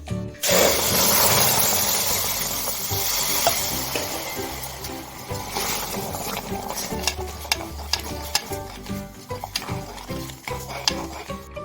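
Hot water hits roasted wheat semolina in a pan for wheat lapsi, bursting into a loud sizzle that fades into steady bubbling, followed by a run of sharp spoon clinks and scraping against the pan, close up.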